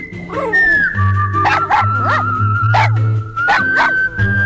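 A dog barks in repeated bursts and whimpers between them, loud and close, with a high tonal whine running under the barks. No one speaks.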